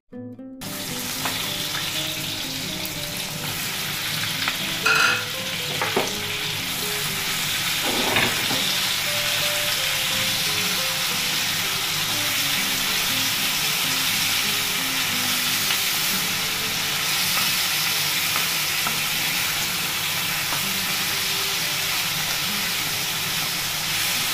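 A kawali sizzles loudly and steadily as paksiw na tuyo cooks, with dried fish, onion, garlic, pepper and vinegar frying and hissing in one continuous, close wash of sound.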